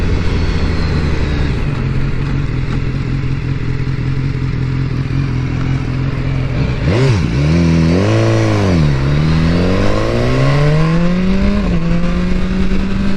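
A BMW S1000R motorcycle accelerates onto a highway, idling steadily at first, then revving sharply and climbing through several gear shifts in a loud, close engine howl with no talk over it.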